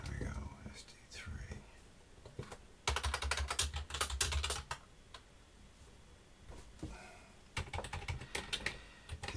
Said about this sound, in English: This is an actual Amiga with a PS2 keyboard plugged into it.